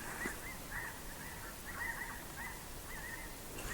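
Faint, distant honking of geese repeating irregularly over a noisy outdoor background hiss.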